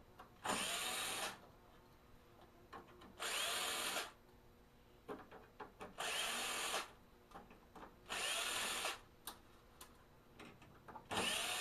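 Power screwdriver bit backing screws out of a Canon imageCLASS D320 printer, five evenly spaced bursts of whirring, each about a second long, close and clear with quiet handling between.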